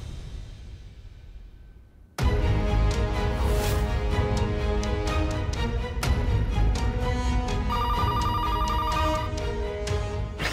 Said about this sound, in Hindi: प्लीज मीरा, प्लीज फोन उठा लो।